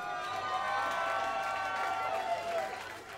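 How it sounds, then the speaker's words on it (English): Crowd at a live punk gig in an underground venue, a soft sustained swell of applause and cheering, with a voice or ringing tone riding over it. "could we get a special round of applause?"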